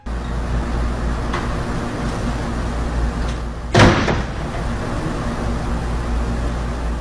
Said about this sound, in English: a moment later, the door next to it slams closed